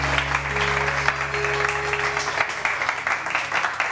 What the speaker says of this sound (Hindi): और तालियां जोर से बजाओ।